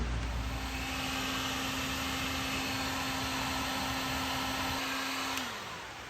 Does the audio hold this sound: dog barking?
no